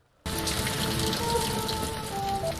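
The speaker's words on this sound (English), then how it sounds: "It was raining when we met. It's the same rain." Steady rain starts suddenly after a moment of quiet in a Doctor Who episode, Blink. It becomes a dense, even patter that continues evenly throughout, without speech.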